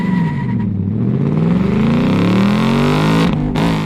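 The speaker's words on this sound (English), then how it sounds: "you also get a soundtrack of the exhaust" A next-generation Ford Mustang V8 exhaust revs and accelerates, a loud, throaty engine note rising and falling in pitch through several sweeps before cutting off abruptly.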